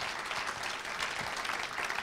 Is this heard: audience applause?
yes